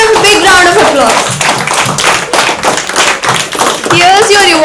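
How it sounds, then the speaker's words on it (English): Audience clapping for a game winner, close and fairly loud, with scattered rhythmic claps running throughout while people talk and exclaim over it. "Let's give him a big round of applause."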